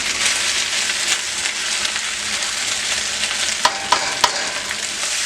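Beef strips browning in a hot pan for chow mein, a steady loud sizzle filling the whole stretch, with a few sharp scrapes of a utensil against the pan near the end.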